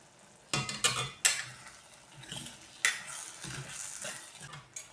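A lid comes off a pan of cluster bean curry, then a spoon scrapes and stirs through it in several close, sharp clinks and soft scrapes over a quiet background.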